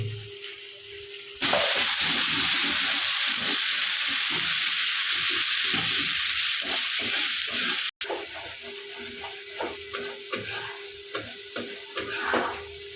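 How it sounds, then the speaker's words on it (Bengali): Ground turmeric, chili and cumin masala sizzles loudly in a hot pan, a sudden burst of hissing frying with scraping stirs, briefly cut off and then resuming more unevenly with clinks of the spoon. "মশলাটা ভালোভাবে কষা হয়ে গেছে"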